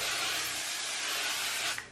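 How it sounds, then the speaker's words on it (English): Hairspray misted onto a styled pixie cut in a steady, continuous hiss lasting about two seconds, close by, with no talking. "So we're gonna use a little bit of hairspray here."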